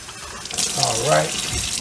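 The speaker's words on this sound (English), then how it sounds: "Now I'm going to add water to it." Tap water runs into a pot of vegetables and chicken broth for homemade vegetable soup, a steady close splashing stream for under two seconds.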